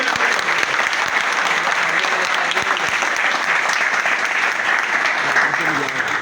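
An audience at a blessed religious meeting at the police lines in Lahore breaks into loud, sustained applause, a thick unbroken wash of clapping from many hands that holds steady throughout.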